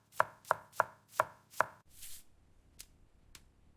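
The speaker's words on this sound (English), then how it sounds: "I'm chopping the onions." Onions being chopped with a knife on a cutting board: five sharp, evenly spaced chops, then a softer scrape and a couple of fainter taps. Close and crisp, with no talking.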